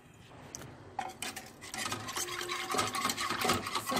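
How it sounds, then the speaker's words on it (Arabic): A whisk stirs butter, flour and milk in a pot for béchamel sauce, with close, quickening scraping and tapping strokes that grow louder, and no talking. "ونبقى كنخلط نخلط بالزربه باش ما يتكورش ليا على هذا الشكل هذا، ونزيد الحليب."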